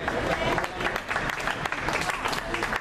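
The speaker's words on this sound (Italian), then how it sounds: "Vedi che scatta automatico l'applauso quando lo sì." An automatic applause sound effect on an Italian program fires off as a brief burst of crowd clapping at moderate level, with some voices mixed in.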